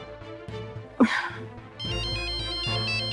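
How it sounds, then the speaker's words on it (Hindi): A mobile phone rings with a repeating electronic melody in a TV drama scene, starting after a brief sharp sound and continuing steadily and fairly loud. "कब से फोन बज रहा है"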